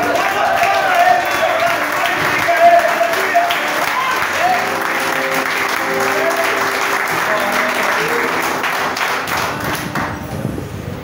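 Applause from a church congregation fills the space with dense, steady clapping that continues throughout, loud and close, with a preacher's voice speaking over it.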